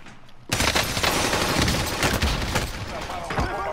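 Gunfire in the World War II shooter Call of Duty: Vanguard, a sudden burst of rapid automatic shots and overlapping fusillade that erupts after a quiet moment and keeps crackling loudly, with a few heavier booms mixed in.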